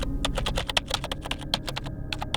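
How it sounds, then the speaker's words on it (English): A computer keyboard clacks in quick, uneven bursts of close, crisp keystrokes, heard alone and fairly loud. "I surfed the web, clacking at my keyboard."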